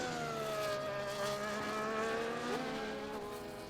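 Race car tyres lock up under heavy braking in a sim racing game at Imola, heard as a steady whining engine tone with pitch shifts and faint tyre squeal, loud and continuous with no talk.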